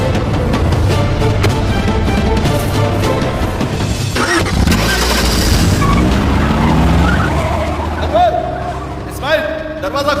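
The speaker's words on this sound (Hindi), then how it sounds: "गाड़ी निकालो।" A car tears away with its tyres screeching in a loud, chaotic movie scene. Engine roar and skidding squeals layer over music and other effects, and voices are mixed in beneath.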